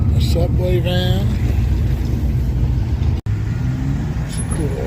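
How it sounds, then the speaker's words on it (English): An old hot rod cruising by at a car show in Moab, Utah: a steady, close engine drone with deep rumble runs throughout, and someone talks over the traffic noise. "It's a cool old hot rod."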